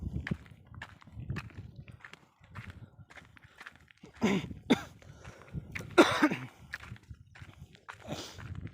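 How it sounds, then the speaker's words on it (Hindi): A person coughs repeatedly, with harsh bursts that grow louder midway, scattered among softer throat-clearing sounds and shuffling. "खांसी अब छोड़ भी नहीं रही"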